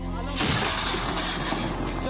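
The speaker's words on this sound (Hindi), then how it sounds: "रायसेन के किले पर सहरी के पहले और शाम को इफ्तारी के वक्त तोप दागने की परंपरा है" A ceremonial cannon fired from the hilltop fort at Raisen to mark the Ramadan iftar, a loud booming blast that rolls into a long echoing rumble outdoors.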